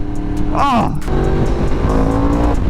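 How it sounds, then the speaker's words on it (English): A Yamaha R1M sport motorcycle with a crossplane engine roars at speed on an open road, popping once with a sharp backfire amid steady loud engine and wind noise. "Oh, it's backfiring beautifully too."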